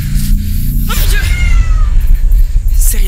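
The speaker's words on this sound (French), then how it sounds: "C'est rien, c'était un chat." A cat lets out a short, rising meow up close in the middle of the clip, over a steady, noisy indoor background with a faint murmur of voice.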